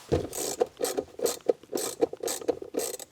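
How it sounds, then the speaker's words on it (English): Screws being driven back into the rear of the shifter trim on a 2015-2021 Subaru WRX during a billet trim install, giving repeated ratcheting clicks in a steady rhythm, close and moderately loud with no talking. "And then we're gonna reinstall our 2 screws in the back."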